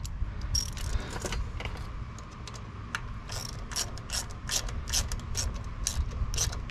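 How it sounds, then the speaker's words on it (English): Quick bursts of ratchet clicking run bolts down on parts for a Harley-Davidson Road Glide Special, close and crisp in short repeated strokes over a low background hum. "I'm just gonna go ahead and run them down with my ratchet."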